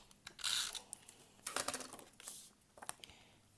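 A Stampin' Up snail adhesive tape runner is pressed along paper for card making, giving a few short, quiet scratchy rolling strokes with light clicking and no talk.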